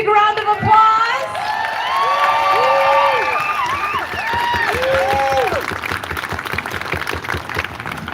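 A crowd at an outdoor rally cheers and claps for several seconds, with whoops and high shouts rising over the applause before it slowly thins out.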